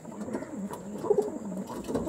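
A pigeon coos nearby in a short run of soft, low, rounded calls repeated in a gentle rhythm, heard alone without talk.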